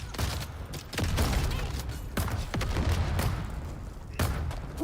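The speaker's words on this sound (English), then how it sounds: "Grenade." Grenade blasts and gunfire in Dune's Deep Desert, a steady barrage of loud booming thumps and cracks with several sharp bursts spread across the stretch, dense and close.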